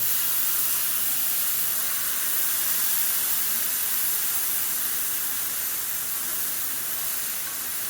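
Steady broadband hiss of steam and spraying water as cooked noodles are drained, continuous and close with no talk.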